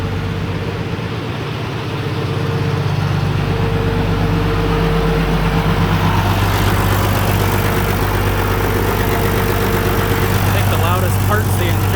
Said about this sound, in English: It's really quiet for a tractor, I suppose.